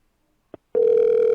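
A phone call rings out: a brief click, then a steady electronic ring tone begins and holds, clear and close.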